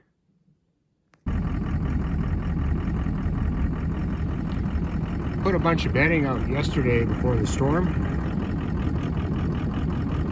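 A tractor engine runs steadily at a snowy cattle-feeding site, a continuous mid-pitched drone starting abruptly and holding throughout, with someone talking over it near the middle.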